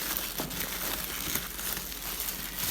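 Packaging for a Corsair K68 mechanical keyboard with Cherry MX Red switches crinkles and rustles steadily as it is unboxed, a close, continuous crumpling sound with no speech.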